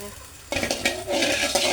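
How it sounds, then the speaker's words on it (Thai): Food hits a hot pan and starts sizzling, a sudden crackling hiss that continues with scraping stirring sounds, close by. "ตอนนี้เราจะมาทอดทำกับข้าวนะคะ"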